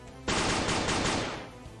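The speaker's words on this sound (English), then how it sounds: "One shot after the other, Shiro released a barrage of gunfire" A loud, dense burst of rapid gunfire erupts suddenly and runs continuously for over a second before tapering off.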